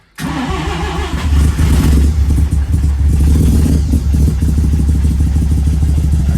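A bridgeport-ported rotary turbo engine from an RX3 fires up and runs loud and close, a rough, buzzing idle with uneven revving and clattery pulses throughout.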